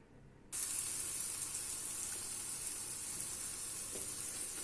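Eggplant sautéing in a pan for a keto Ali Nazik kebab: a steady, bright sizzle that switches on suddenly and holds evenly, with faint stirring clicks and no voices.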